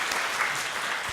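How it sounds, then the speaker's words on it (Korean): A congregation at a Sunday morning church service claps in a dense, continuous round of applause filling the room. "우리 수고하신 모든 분들을 우리 하나님께 영광의 박수 올려드리도록 하겠습니다"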